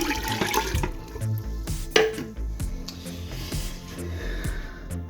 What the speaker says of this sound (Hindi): मैंने इसमें तकरीबन 10 लीटर पानी डाला है।